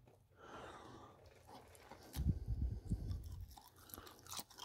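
Close, wet chewing with squishy, slippery mouth sounds building after a quiet start, then tapering off.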